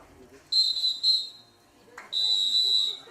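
Shrill referee whistle at a swimming championship race start: two quick short blasts followed by one long sustained blast, loud and near, with faint voices in the background.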